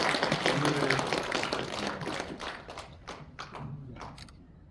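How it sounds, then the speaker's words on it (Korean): An audience at the closing of a Korean Presbyterian church general assembly claps, dense and loud at first and then breaking into scattered, uneven claps that fade away. "이분들을 위해서 박수 안 치셔주시죠?"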